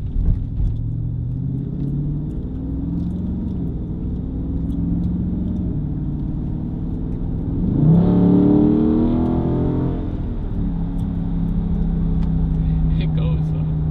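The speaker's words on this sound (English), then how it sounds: "Cause I got the V8 and it like rumbles." A Dodge Charger Scat Pack's 392 V8 engine idles with a deep, uneven rumble, then revs up briefly before settling back to a low burble.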